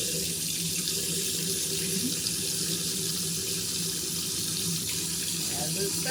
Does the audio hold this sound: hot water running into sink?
yes